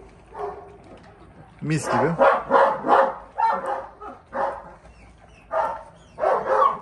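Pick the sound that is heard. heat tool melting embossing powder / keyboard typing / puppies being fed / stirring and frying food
puppies being fed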